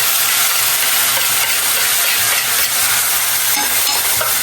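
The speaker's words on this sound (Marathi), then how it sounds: "टोमॅटोचा खिमा टाकतोय. टोमॅटो टाकून झालेला आहे." Tomato kheema frying in a pan while being stirred, a loud continuous sizzle and hiss close up, with steady scraping stirs running underneath throughout.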